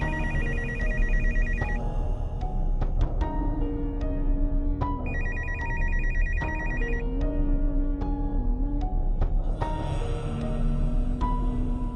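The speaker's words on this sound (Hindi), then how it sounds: "फोन उठाओ।" Telephone ringing in a home drama scene, repeated electronic ring bursts with pauses between them, close and clear over a steady background.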